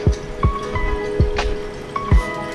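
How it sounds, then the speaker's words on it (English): Vinegar swishes and drips inside a kombucha bottle as it is washed, giving several wet splashing knocks and squishy liquid sounds in an irregular rhythm, close and fairly loud. "You have to wash the bottle with vinegar"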